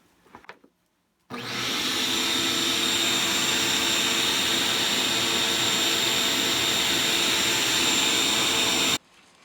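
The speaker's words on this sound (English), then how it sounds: "then you turn it on and blow all your dust out." A loud, steady rushing roar of a blower blowing dust out of a Harman P68 pellet stove starts abruptly and runs continuously for several seconds before cutting off.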